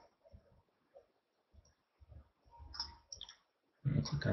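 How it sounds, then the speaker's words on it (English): Computer mouse clicking while saving a file during a web-page demonstration: a few soft, sparse clicks scattered through a quiet room, followed by a louder burst of handling noise at the end. "Click on that again."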